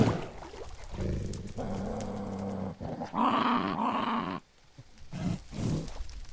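Dogs or wolves growling in a Minecraft game, several rough snarling bursts over game background sounds, with a short break near the end and fairly close, loud growls.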